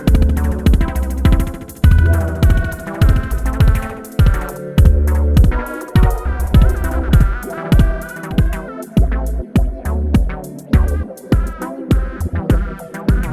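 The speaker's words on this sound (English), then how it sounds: "And Flutter will give you a little wavery sound like this." Music runs through the Airwindows TapeDelay2 tape delay plugin with flutter on, giving a slightly wavering pitch. A loud, continuous rhythmic beat with repeated sharp percussive hits plays throughout.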